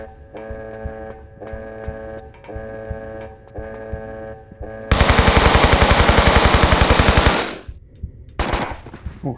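In Tomb Raider III on the PS1 beta's Area 51 level, a rhythmic mechanical ticking gives way to a loud, sustained burst of rapid automatic gunfire, then a few final shots, with no speech.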